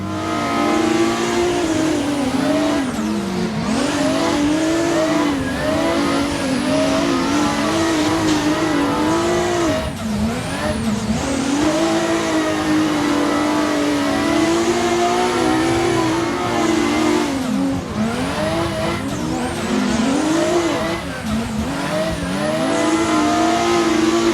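A BMW E46 street car accelerates and revs hard on a track, its engine note rising and falling through gear changes, loud and continuous throughout with no talking.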